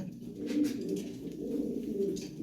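A caged pair of red Lahori fancy pigeons coos in low, throaty, repeated rolling calls close by, with no talking over them.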